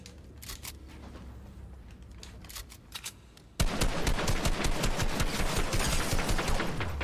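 A gunfire exchange in Fortnite: scattered snapping shots at a moderate level, then a sudden jump into loud, sustained rapid automatic fire that continues to the end.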